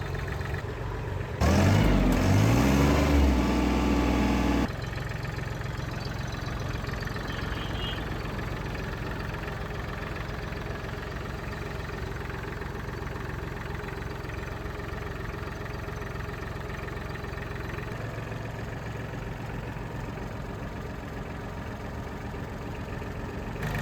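A Swaraj 744 FE tractor engine idles with a steady low rumble throughout, louder for a brief stretch near the start before settling into a constant drone.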